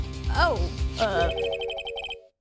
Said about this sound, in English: One of those newfangled ringtones.